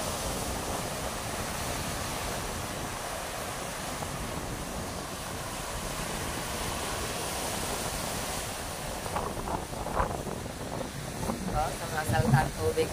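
Rough sea surf rolling in under gusting wind, a faint continuous roar with buffeting wind on the microphone, and a few louder crashes near the end.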